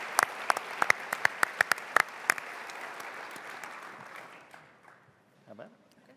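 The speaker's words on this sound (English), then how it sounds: "let's first give a round of applause to all of those who are honored tonight" Audience applause for honorees at an Arkansas business awards program, crisp claps over a crowd wash that fades out after a few seconds, leaving faint room sound and a brief low voice near the end.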